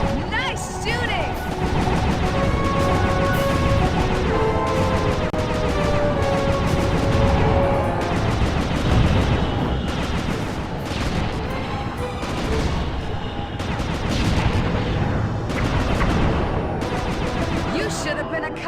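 Gunfire in a Sly 2: Band of Thieves cutscene, with repeated loud shots and crashes that run steadily through a busy mix of music and action noise.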